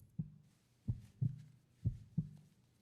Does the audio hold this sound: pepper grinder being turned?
no